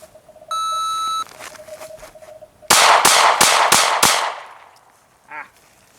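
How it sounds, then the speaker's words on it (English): Five quick handgun shots ring out at a shooting range, fired rapidly in an even string while drawing from concealment, preceded by a short electronic timer beep and followed by a fading echo. "we're trying to put all 5 rounds in that 5-inch circle in 5 seconds on drawing from concealment"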